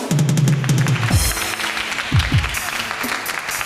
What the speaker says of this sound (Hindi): इस बात पे भी तालियां